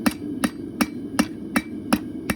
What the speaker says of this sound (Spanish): desplazar material con este martillo cónico, que es un martillo pestañador